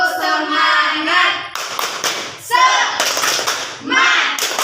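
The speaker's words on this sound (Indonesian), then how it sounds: "Kita akan melakukan tepuk semangat." Schoolchildren doing a rhythmic spirit clap, tepuk semangat, in class: bursts of group clapping in short patterned groups, close and fairly loud, alternating with children's chanted voices.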